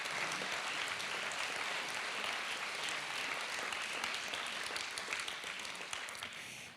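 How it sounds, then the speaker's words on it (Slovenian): An audience at a cultural holiday award ceremony in Krško applauds steadily, a dense wash of clapping that holds for several seconds before tapering off at the end. "Tudi aplavz je nagrada, kar korajžno z njim."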